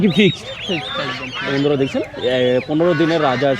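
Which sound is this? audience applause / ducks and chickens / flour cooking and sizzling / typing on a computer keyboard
ducks and chickens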